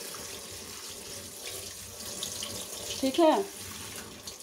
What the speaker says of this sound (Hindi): इसको पानी से ऐसे धो लेंगे ताकि एक दूसरे से ये चिपके नहीं